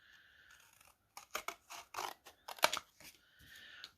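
Scissors snip through a sheet of paper to cut out a small square, several short crisp cuts in an uneven rhythm, close and clear against a quiet room.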